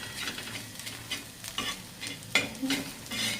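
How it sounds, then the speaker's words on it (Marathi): Chillies and garlic fry in a pan over a low flame for egg bhurji, a steady soft sizzle broken by several scraping stirs of a spoon against the pan, with no voices. "याला चांगलं आपल्याला असं दोन मिनटं मस्त बारीक गॅसवर असं फ्राय करून घ्यायचं"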